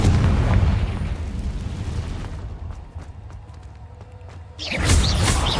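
A Confringo fire spell blasting in Hogwarts Legacy, a heavy rumbling explosion that decays into scattered crackling debris before a second burst of fiery roar, loud and close.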